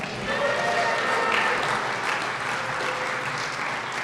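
Sustained crowd applause at a county Democratic Party annual dinner for the Lieutenant Governor, a steady, even roar of many hands clapping throughout with no voices over it.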